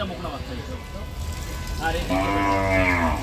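A young heifer calf and other cattle at a village livestock market in Dinajpur, one clear drawn-out moo rising over steady crowd murmur and voices, close and loud.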